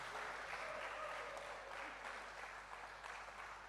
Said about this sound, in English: Can we continue clapping, please?